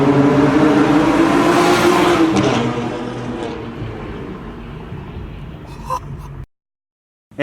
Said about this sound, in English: this car is stupid obnoxious with a resonator delete